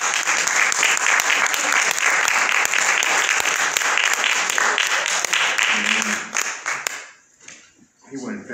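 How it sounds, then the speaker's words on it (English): A church congregation at a Thursday Bible study claps hands in loud, sustained applause that fades out near the end, with a voice speaking briefly as it dies away. "Clap your hand and give God praise for you."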